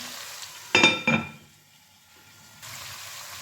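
Onions hit a hot pan with two sharp bursts of sizzling, then the sound settles into a low, quiet hiss that swells again toward the end, close up with no talk.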